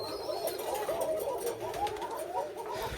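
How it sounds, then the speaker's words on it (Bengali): White Koka pigeons coo softly in a loft, with repeated low warbling calls and occasional wing flutters over a steady background hiss, at a moderate distance and no talking. "এগুলো সবগুলোই হচ্ছে সাদা কোকা কবুতর"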